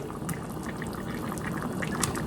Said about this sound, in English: Just let that simmer on top a little bit.